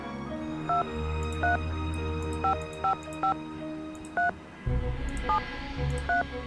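Touch-tone beeps from a phone dialing in the Nancy Drew video game, about ten short evenly spaced tones over a steady low background hum, clear and alone.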